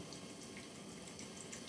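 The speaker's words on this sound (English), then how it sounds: "We're also gonna pour some Tabasco sauce." Tabasco hot sauce being poured while preparing a meal, a steady soft liquid splash and trickle running continuously and close by, with no talking.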